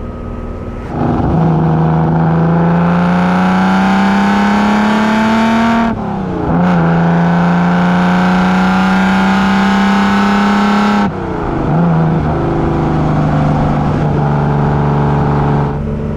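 A 1965 Lamborghini 350 GT's V12 engine revving hard in three long sustained pulls, each holding a high steady drone before dropping off briefly, loud and close with no voices.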